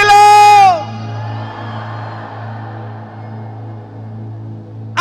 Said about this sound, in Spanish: ¡Grito de júbilo!